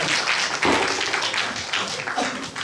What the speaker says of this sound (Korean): 야, 박수 한번 쳐.